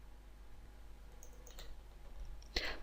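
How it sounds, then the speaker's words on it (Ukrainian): Computer mouse clicks sound faintly while choosing components in window-calculation software, a few soft ticks followed by a sharper, louder double click near the end against a quiet background hum. "Вибір комплектуючих відбувається подвійним кліком миші на необхідному варіанті."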